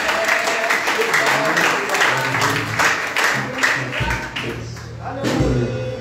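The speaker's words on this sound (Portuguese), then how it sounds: "E as palmas engrandecem o nome de Jesus" Church congregation clapping hands during an evening communion worship service, rhythmic claps mixed with voices and some low musical tones, fairly loud and steady throughout.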